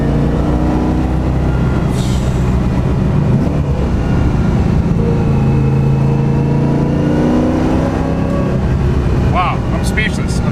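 BMW E36 M3 fitted with a 660HP 7.1L LS2 V8 accelerating, a loud, deep engine roar heard from inside the car, climbing and holding through repeated pulls, with a voice speaking over it.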